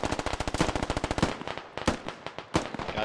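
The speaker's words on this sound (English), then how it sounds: "All the Russian fire coming in now." Machine gun fire in the video game Squad: a fast, steady burst of automatic rounds for about a second, then scattered single and double shots at a slightly lower level, loud and close.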